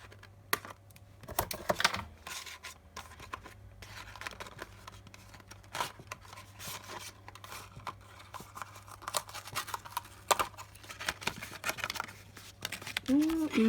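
Small scissors snip and crinkle through packaging, irregular close cutting and rustling clicks in uneven bursts, with someone speaking quietly at times and a low steady hum beneath.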